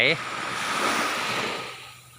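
Sea waves washing up at high tide on a Koh Chang beach in the early morning, a soft broadband surf wash with some wind noise, fading toward the end.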